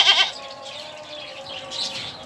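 A four-toothed goat at a livestock market lets out a loud, close bleat at the start, then quieter wavering bleats carry on over a low market background.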